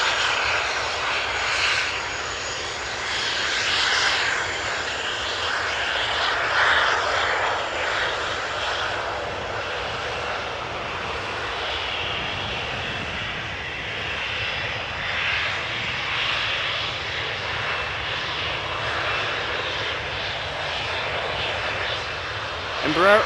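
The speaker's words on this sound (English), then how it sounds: "a Boeing 737-800 behind it. From Transavia. Returning from Alicante." A Transavia Boeing 737-800 airliner at Amsterdam Schiphol Airport, returning from Alicante, gives off a sustained jet engine roar that swells and fades gently over the whole stretch, heard from a distance while someone talks over it.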